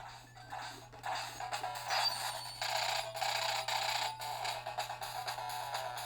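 Japanese version of the Teenage Mutant Ninja Turtles video game playing loudly through the small built-in speaker of a PowKiddy N1 handheld, a busy stream of bright music and crashing effects with no talk.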